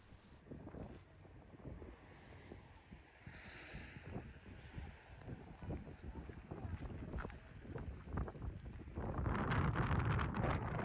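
Strong wind in the Scottish Highlands buffeting the microphone, a low continuous rumble with gusts that swell louder toward the end, steady throughout with no clear talk.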